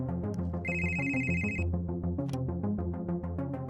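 A telephone rings with a melodic ringtone tune, a repeating sequence of bright tonal notes playing steadily and clearly with no voices.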